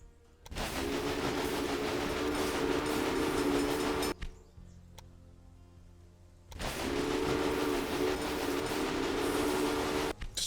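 Trains running in the railroad strategy game Railway Empire, set in the golden age of steam: loud sustained rumbling rail noise with steady tonal whine, dropping away briefly mid-clip before returning, no talking.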